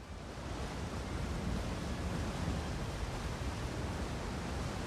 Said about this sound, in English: And a waterfall, that sounds really cool.